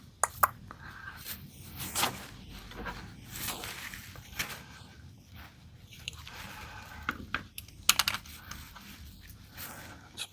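Typing on a computer keyboard during a gaming PC build, with quick irregular clicks and clustered key bursts, fairly close and clear, with no talking over them.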